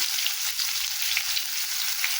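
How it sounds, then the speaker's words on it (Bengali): Chopped onion sizzles steadily in hot oil with cumin seeds in a home kitchen pan, a dense continuous frying hiss with faint low stirring thumps, close and alone. "পেঁয়াজ কুচি দিয়ে দিলাম,"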